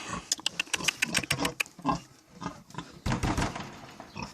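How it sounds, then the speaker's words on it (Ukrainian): Hungarian Mangalica piglets, a litter of six, grunt and squeal in quick, overlapping bursts, close by and fairly loud, with rustling between the calls. "Ось тут на сонечку гріється ще один виводок поросяток."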